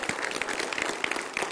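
Audience applause during a Mann Ki Baat 100th-episode studio broadcast, a steady dense patter of many hands clapping at moderate level, with no pause across the short stretch.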